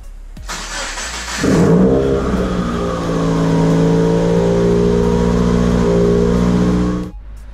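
A 2017 Subaru WRX engine, freshly fitted with new spark plugs, starts with a short crank, rises briefly, then settles into a smooth, steady idle, loud and close, before cutting off.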